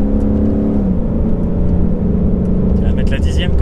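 Ford Mustang GT V8 with a 10-speed gearbox at full throttle down a straight, a loud steady engine roar filling the clip with rising harmonics while people talk over it inside the car.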